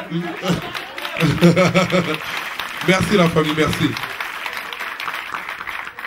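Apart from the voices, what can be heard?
audience applauding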